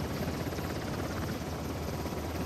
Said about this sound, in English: Bring that chopper down.